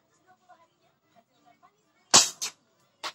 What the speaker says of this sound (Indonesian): tembakan pertama